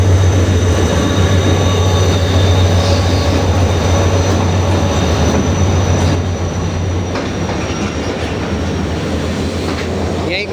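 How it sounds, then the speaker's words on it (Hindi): Train hauled by locomotive HGMU 30 8215 rolling into Multan Cantt station on a smoggy, foggy day, a loud steady rumble of wheels and engine with faint squeals and clatter, easing slightly toward the end. "हमारी ट्रेन इंटर हो रही है मुल्तान कैंट 2:10 पर"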